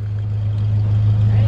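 A steady, loud manual pickup truck engine idles and rumbles low throughout, holding a constant deep drone with a slight rise toward the end.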